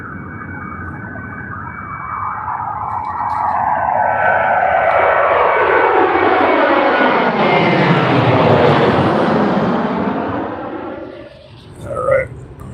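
An airliner on the Phoenix flight takes off from Burbank airport, its jet engine roar building to a loud, sustained sweeping whine that peaks and then recedes, recorded nearby and outdoors.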